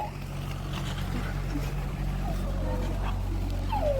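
A dog whimpers and yips in short high whines scattered over a steady low engine-like drone, close by, with faint voices in the background.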